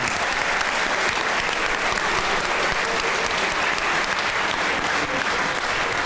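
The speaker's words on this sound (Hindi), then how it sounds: "ताली होनी चाहिए, ताली होनी चाहिए" Dense, continuous applause from a studio audience at a Pakistani comedy show fills several seconds, loud and evenly textured with no pauses.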